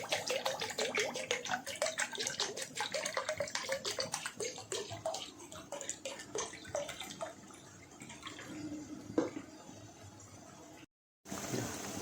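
Cold water from the fridge pours in a steady splashing stream while rasmalai cooks at home, running for about eleven seconds before a brief silence and a short resumption.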